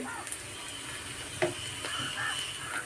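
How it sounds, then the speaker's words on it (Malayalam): Curry leaves dropped into a hot pan with chopped green chillies, giving a steady close sizzle and hiss with light stirring clatter and a brief louder crackle partway through, cooking for a jackfruit and jackfruit-seed roast. "ഇനി ഇതിലേക്ക് ഞാൻ കുറച്ച് കറിവേപ്പിലയാണ് കേട്ടോ ഇട്ട് കൊടുക്കുന്നത്"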